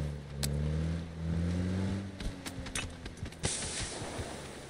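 Car engine in a video game, a steady low drone with rising pitch sweeps as it accelerates, then broken up by sharp clunks and impacts in the second half, fairly close and loud.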